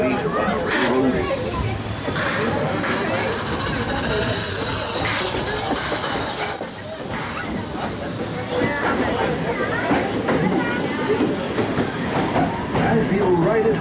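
A Magic Kingdom tour train rolls along its rails with steady clickety-clack and a soft hiss throughout, while a narrator talks over the running train.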